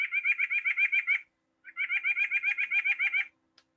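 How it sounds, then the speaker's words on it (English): A single bird calls in two long runs of rapid, evenly spaced whistled notes, with a short pause between runs, close and clear against a quiet yard or schoolground. "know what that bird is just from its call or song"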